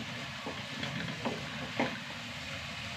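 Onions sautéing in a pan give a steady, low sizzle with a few soft stirring scrapes, quiet and continuous with no talking.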